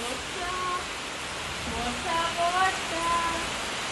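Continuous hiss of rain falling in Hyderabad, with faint voices talking underneath the steady wash.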